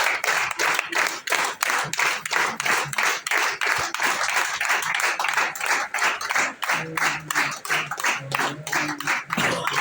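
An audience at a garlanding ceremony for a new area manager claps in a steady, rhythmic pattern of sharp hand strikes, fairly close, with faint voices briefly audible near the end.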